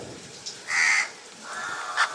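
Crows caw outdoors in two clear bursts, one loud call near the middle and a slightly softer pair toward the end, with no voices over them.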